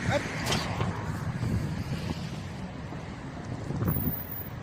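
Strong, cold wind gusting around a microphone outdoors, a continuous rough rumble with rising and falling gusts, while someone talks over it.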